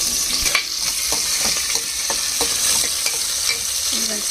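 Onions and green chilies sizzle in hot oil in a pan while a spoon scrapes and stirs them in a steady rhythm. The frying is close and continuous, with regular metallic scrapes and no talking.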